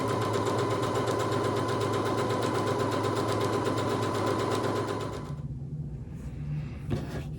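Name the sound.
sewing machine sewing fabric strips together for coasters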